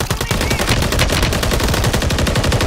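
Rapid automatic gunfire from the Call of Duty video game, a dense continuous burst of loud shots filling the whole stretch with no clear speech.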